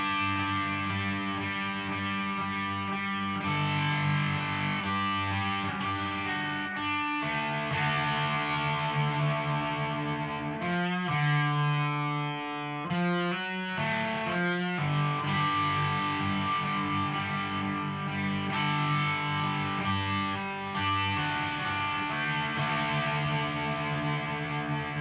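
A loud, crunchy distorted electric guitar plays a repeating riff with bent notes and sustained chords, steady and up close, with no voices.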